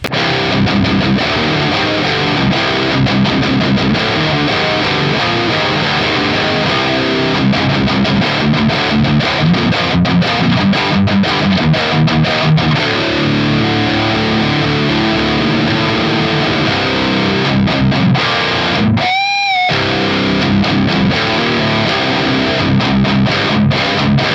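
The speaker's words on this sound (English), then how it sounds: "Assuming this is gonna be a 5150 style distortion." A heavily distorted electric guitar through a Boss Katana amp on a 5150-style high-gain setting chugs and rings with thick, saturated tone, playing continuously with a brief pause near the end.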